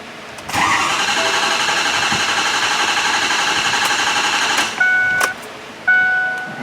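A 2009 Ford F-350 with a 6.4L diesel engine cranks steadily for several seconds without catching, a loud continuous starter whir up close, followed by a pause, a brief whine and another short burst of cranking.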